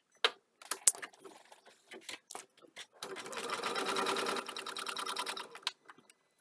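A home sewing machine runs in a steady, rapid burst of stitching for a few seconds after scattered clicks and handling noises, close and fairly loud, then stops when the bobbin runs out.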